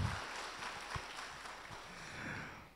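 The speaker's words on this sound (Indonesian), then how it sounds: "boleh diberikan tepuk tangan yang sangat luar biasa untuk Anda semuanya" Audience applause at the opening of a provincial government staff training and entrepreneurship event in East Java, steady broadband clapping from a crowd filling the room for nearly three seconds, with no talk over it.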